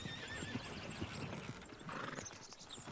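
A horse in Red Dead Redemption 2 gallops off with rapid hoofbeats, snorts and a whinny, busy and close over faint game ambience, with no talk.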